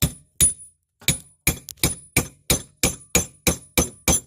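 A steel chisel is hammered in as a wedge on a HON/Steelcase metal shelf part, ringing out about eleven sharp, close metallic strikes in a steady, quickening rhythm, each with a brief bright ring, and no talk.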